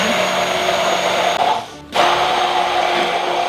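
An electric hand blender whirs loudly, mixing a light, creamy mayonnaise made with olive oil. The steady motor whine drops out briefly as it pauses, then resumes at full speed.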